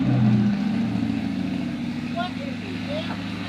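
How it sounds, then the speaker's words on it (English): A C8 Corvette with an upgraded exhaust producing a steady low engine drone, loudest at the start and then settling into a constant hum, with brief voices in the background. "We got you an upgrade on the exhaust so it doesn't sound like you're driving a Subaru anymore."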